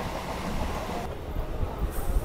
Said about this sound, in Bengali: এই আমাদের ট্রেনটা এই শেওড়াফুলি জংশন চলে আসলো।